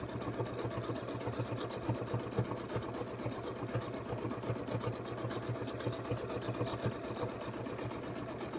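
A Janome sewing machine running steadily during free-motion stitching, a fast even mechanical chatter with a low rhythmic thump, close and continuous without a break.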